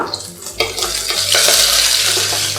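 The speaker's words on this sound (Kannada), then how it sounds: "ಹೈ ಫ್ಲೇಮಲ್ಲಿ ಈರುಳ್ಳಿ, ಹಸಿಮೆಣಸಿನ್ಕಾಯಿ, ಬೆಳ್ಳುಳ್ಳಿ ಎಲ್ಲ ಫ್ರೈ ಮಾಡ್ಕೊಳ್ತಿದ್ದ ಹಾಗೆ" Onion, green chili and garlic fry in oil over a high flame, giving a loud, steady, close sizzle with a few stirring scrapes and a low hum underneath. No one speaks.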